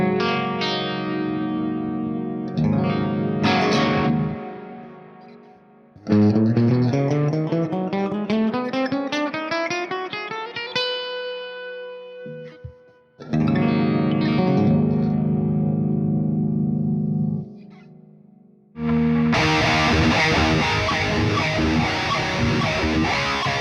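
Electric guitar played through homemade PCB pickups and run through effects, with distorted, echoing chords and strummed notes in several separate passages broken by short pauses, ending on a loud, heavily driven section.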